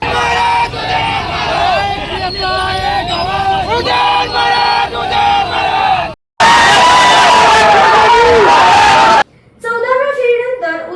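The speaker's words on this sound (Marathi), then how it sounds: "यानंतर मात्र सातारा शहरामध्ये उदयनराजेंच्या विजयाचा एकच जल्लोष उडाला." A crowd in Satara city celebrates Udayanraje's election victory with loud, dense cheering, whooping and shouting chants, continuous and close, cut by abrupt jumps between excited passages.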